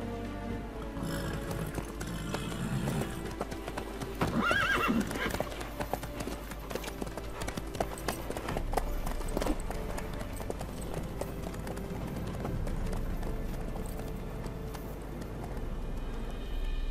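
A horse galloping in The Witcher 3, its steady clip-clop hoofbeats running throughout under game music and ambience, with a whinny partway through.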